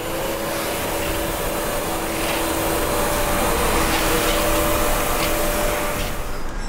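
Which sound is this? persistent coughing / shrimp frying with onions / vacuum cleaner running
vacuum cleaner running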